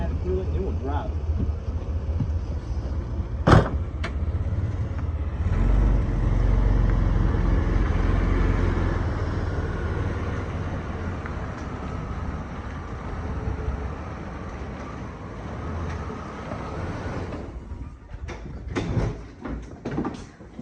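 An old truck with throttle-body fuel injection starts with a brief clunk and then runs, a steady low engine rumble that swells and settles, recorded close, with a sharp knock near the end.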